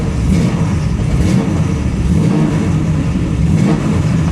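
A 1967 Chevy Camaro V8 runs loud and close, its engine revving in steady surges over a deep rumble with no talk.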